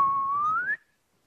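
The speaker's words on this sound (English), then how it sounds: "if I whistle now" Single sustained whistle from a person in a workshop room, one steady tone rising slightly in pitch before stopping abruptly, followed by quiet.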